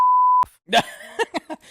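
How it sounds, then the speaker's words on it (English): A steady electronic beep sounds for under half a second and then stops abruptly. A few short, varied tones and clicks follow in a quick sequence. "Beep."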